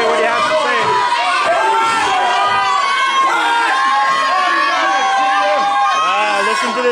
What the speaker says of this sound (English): He wants the crowd to quiet down so he can say what he has to say.